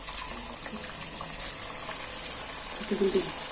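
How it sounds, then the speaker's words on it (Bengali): Palm fritters dropped one by one into hot oil for a Janmashtami sweet, giving a steady soft bubbling hiss with a brief louder crackle near the end; no talking. "একটা একটা করে এর মধ্যে দিয়ে দিচ্ছি, তেলের মধ্যে তুলে দিচ্ছি।"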